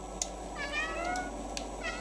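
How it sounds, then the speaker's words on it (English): A cat meowing in the video game Stray, a couple of drawn-out plaintive meows over a quiet background hum, with light taps and clicks in between. "Press circle to meow."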